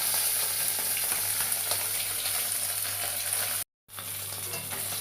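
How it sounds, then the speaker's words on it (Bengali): Fish frying in hot oil in a wok, a dense continuous sizzle and crackle heard up close, steady and loud with a brief cutout near the end before the sizzling resumes. "মাছগুলো দিয়ে দিচ্ছি, তেল গরম হয়ে গেছে কড়াইয়ের মধ্যে।"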